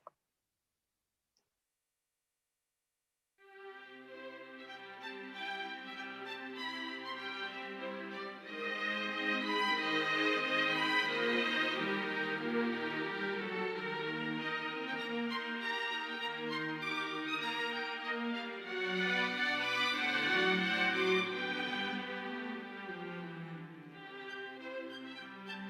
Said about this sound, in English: every time we see Peter, he's represented by the string instruments, and you hear that theme